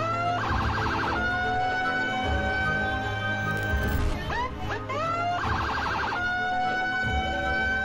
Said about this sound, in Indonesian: suara sirene atau strobo ini menuai protes dari banyak warga